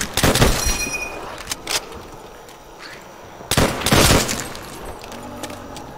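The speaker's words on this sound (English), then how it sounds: "Three shots. Three headshots." Rapid bursts of gunfire ring out in the Call of Duty World at War Zombies video game: a loud opening volley, scattered lighter shots, then a second heavy cluster of reports before fading to quieter pops.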